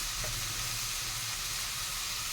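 Steady close sizzle of a curry frying in a pan as turmeric is stirred in, a continuous hissing bed with faint scraping and no talk.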